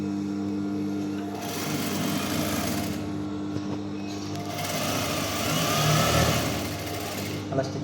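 A sewing machine stitches a full shirt with a steady, continuous whir that swells and eases as the stitching speeds up and slows, close and loud throughout.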